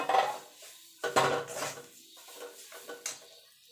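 A spoon scrapes and clatters against a bowl while ground lentil paste is mixed into kachori filling, a few distinct metallic knocks and scrapes spaced irregularly, close up with no talk.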